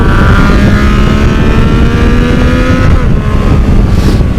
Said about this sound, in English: I've only got maybe 500 miles on this motorcycle, and this engine is already one of my favorites